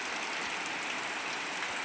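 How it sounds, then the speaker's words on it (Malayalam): Rain falls outside a window in a steady, dense hiss of drops that stays even throughout, close and moderately loud with no voices. "നല്ലപോലെ മഴ കാണിക്കണമെന്നുണ്ടായിരുന്നു, പക്ഷേ ഈ ജനലിൻ്റെ മുകളിൽ നിൽക്കുന്നത് അതാണ്"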